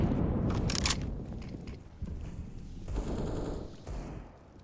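Rapid gunfire from the Counter-Strike video game, with a USP pistol kill and AK rifle play during a professional Nuke match, bursts of shots crackling loudly in quick succession and tailing off into quieter in-game action.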